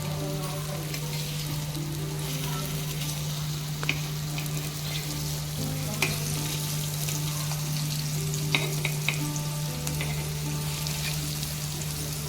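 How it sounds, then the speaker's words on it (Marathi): Pieces of halwa fish fry in oil in a pan, a loud continuous sizzle with a steady hum beneath and several sharp clicks as the pieces are turned over. "आता आपण मच्छी पलटी करणार आहोत"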